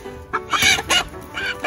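Several chickens clucking up close, a backyard flock of about four or five hens, with short bursts of squawks coming in quick, irregular clusters.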